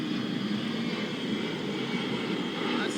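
An aeroplane at London City Airport gives off a steady, close engine drone with a roaring hiss, unbroken throughout.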